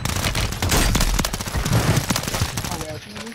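Rapid pistol gunfire from the video game Call of Duty, a dense run of sharp close shots with loud overlapping bursts throughout, with talk and game noise underneath.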